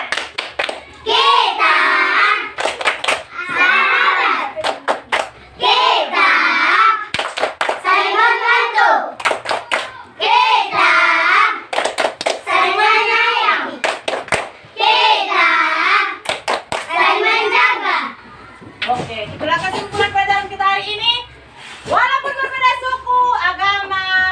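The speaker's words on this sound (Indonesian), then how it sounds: "Coba dulu kita tepuk sahabat dulu. Tepuk sahabat." Children performing a tepuk sahabat clapping chant in an Indonesian classroom, rhythmic group clapping bursts alternating with chanted voices in repeated phrases, loud and close.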